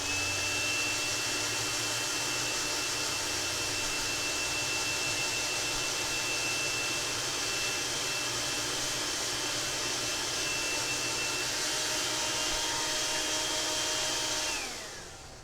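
A hair dryer blows steadily to dry watercolor paint, a loud continuous whirring hiss with a steady whine that holds for the whole stretch, then winds down as it is switched off at the end.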